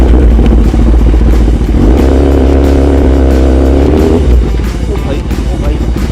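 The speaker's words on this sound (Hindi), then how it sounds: "दिल पे पत्थर रख के बाइक को नेल बेड के ऊपर से निकाल दिया।" A Kawasaki Ninja ZX10R superbike's engine rumbles steadily and loudly up close as it is ridden off a bed of 2000 nails, with excited voices over it.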